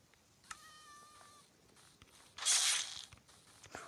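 A kitten meows in the Minecraft video game, a short synthetic cry standing alone against quiet background, followed by a louder brief noisy burst.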